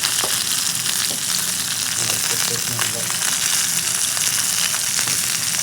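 Curry leaves frying in hot oil in a pan and being stirred, a loud constant sizzle and crackle with occasional scraping knocks of the spoon, no talking over it.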